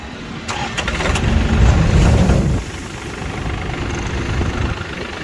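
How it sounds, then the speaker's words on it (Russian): A Yanmar F215D Japanese mini tractor with a rotary tiller, 440 engine hours, cranks briefly and fires up, then settles into a steady, fairly loud diesel idle with no talk. "Собственно, по запуску, естественно, все будет максимально мягко и без проблем."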